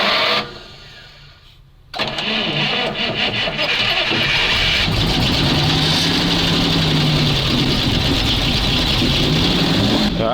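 Old Soviet MAZ crane truck engine turns over and catches, then runs steadily and loudly with a low rumbling idle that holds for several seconds, following a quieter moment.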